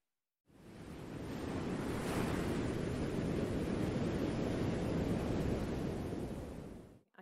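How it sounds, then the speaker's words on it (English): Sea waves crash against rocks on the rugged North Yorkshire coast near Whitby, a steady, loud, broad roar of surf that rises and fades, with no voices. "I can hear the waves crashing against the rocks and lashing the boats"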